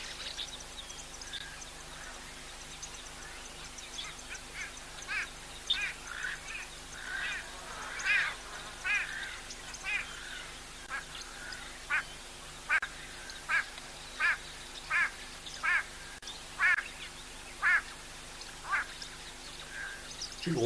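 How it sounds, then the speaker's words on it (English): Repeated loud, nasal go-away bird calls ring out in a steady series over quiet waterhole ambience, growing more regular toward the end. "It sounds like a type of lory, but like it could be go away birds."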